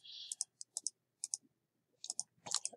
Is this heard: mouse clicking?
yes